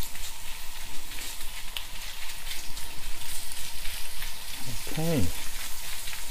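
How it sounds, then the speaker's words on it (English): Raw minced beef, 200 grams, frying on high heat in a pan, a steady broadband sizzle running throughout, with a brief spoken word near the end. "put the minced beef in. Notice the minced beef is raw, so we've gotta fry that."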